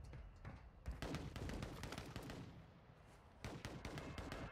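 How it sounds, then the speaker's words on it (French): Rapid gunfire erupts close by in a competitive ranked online shooter, sharp repeated bursts cracking in quick clusters with brief gaps, then another volley near the end. "Ça tire juste derrière moi là"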